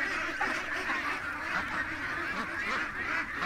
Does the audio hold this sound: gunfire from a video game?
no